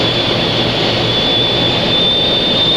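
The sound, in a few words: Steve Murty's jet truck engine running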